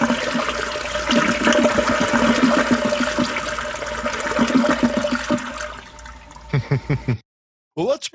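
A toilet flushes steadily for about seven seconds with rushing, gurgling water at close range. Water sounds taper off before a brief pause, and a few voice-like bursts appear near the end.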